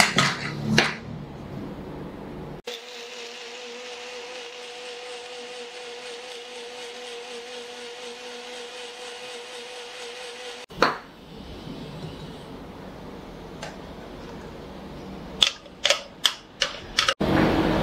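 An electric blender whirs through avocado lassi with ice and water in a small jar, a steady motor whine of about eight seconds that starts and stops abruptly, with clatter and knocks before and after.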